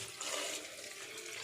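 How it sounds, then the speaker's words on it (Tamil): Water pours steadily into a cooking pot while a spiced vegetable and rice dish is being made, a short close gushing splash with no talk. "இப்போ இந்த அளவு தண்ணி ஆட் பண்ணிக்கோங்க."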